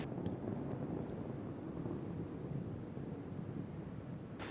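Space Shuttle Atlantis's three liquid-fuel main engines roar during launch as the vehicle passes through the sound barrier, a steady, dense low rumble with a continuous wind-like wash and no voices.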